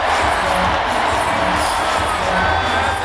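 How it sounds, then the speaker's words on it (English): An elated crowd at a live music performance cheers wildly, a loud, dense, continuous roar of shouts and whoops with no pauses. "Enjoying wild cheers from the elated crowd, Patapizi found a reason to dance."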